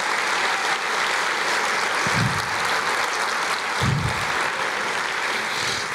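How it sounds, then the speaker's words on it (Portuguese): A congregation claps together in a church service, a sustained broadband roar of applause with a couple of low thumps or bumps partway through, loud and continuous throughout. "Eu quero ver uma salva de palmas para Jesus"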